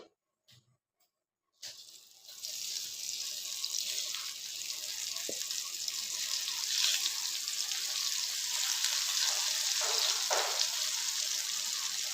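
Vegetarian fish pieces frying in a pan for a Tamil-style fry, a steady bright sizzle that starts abruptly after a moment of quiet and holds loud and close with small crackles, no talking.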